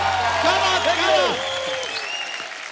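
An audience applauds at a comedy show with music performers, a short burst of clapping heard under a voice announcing over it, fading slightly toward the end.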